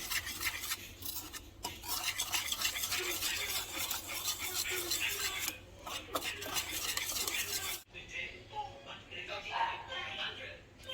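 A marinade of salt, pepper, garlic powder and five-spice is mixed in a bowl with steady scraping and stirring up close. The stirring stops abruptly, followed by softer handling noises and someone talking.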